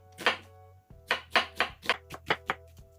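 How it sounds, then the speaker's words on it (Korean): Knife chopping through half an onion on a cutting board, about eight crisp, separate strokes in an irregular rhythm, close and fairly quiet. "양파 반 개는 송송송송 썰어주시고"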